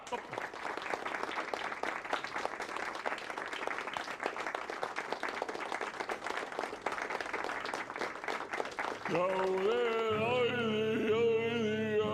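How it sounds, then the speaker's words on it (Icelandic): Audience applause for a singer, a steady dense wash of clapping that runs loud for about nine seconds before music with a singing voice takes over. "gefa honum gott klapp"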